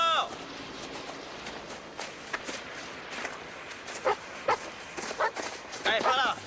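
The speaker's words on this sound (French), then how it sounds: "Son chien!" A dog barks several times in short bursts during a tense outdoor search scene, the sharp barks rising over background commotion while people shout nearby.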